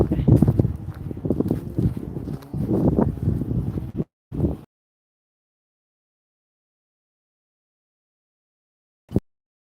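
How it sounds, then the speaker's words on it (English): Gusty wind rumbles against the microphone while a person talks for about four seconds, then near silence with a brief thump near the end. "Okay, windy."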